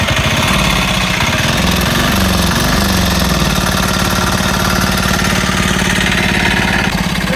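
A diesel mini bike engine running at a scooter swap meet, loud and close with a rapid knocking, chugging beat that holds steady throughout.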